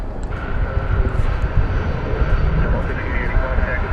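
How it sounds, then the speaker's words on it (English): A UPS cargo jet, a 757 on flight 791 from Laredo, Texas, arriving at DFW Airport at night, its engines giving a steady, moderately distant roar that swells slightly, with a voice talking over it. "It's a UPS flight 791 from Laredo, Texas, finishing up a flight of just about an hour."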